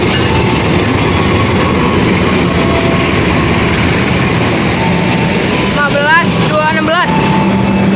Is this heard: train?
yes